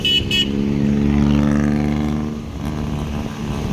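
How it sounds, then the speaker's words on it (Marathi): A car drives along a road through green rain-soaked countryside, its engine humming loud and close with steady road roar; the pitch rises and falls slightly as it cruises, with no one talking. "कसा आहे आवाज गाडीचा?"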